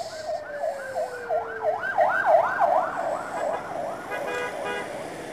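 A Miyor Holiday intercity bus on the trans-Sumatra Payakumbuh–Jakarta–Bandung route sounds its telolet horn, a melodic multi-tone horn playing rapid rising and falling warbles that repeat for several seconds, loud and close over road noise.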